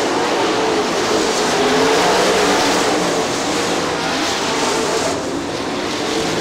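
Super late model race cars roar around Crystal Motor Speedway in Crystal, Michigan, during a 2000 late model feature, a dense, loud, continuous engine drone with steady pack noise and no pauses.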